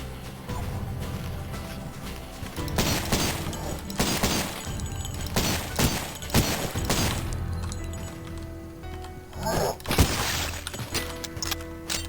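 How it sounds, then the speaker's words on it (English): A double barrel shotgun in the retro shooter Cultic fires repeatedly, each loud cracking blast mixed with shattering impacts, over a steady game soundtrack. "A nice double barrel shotgun."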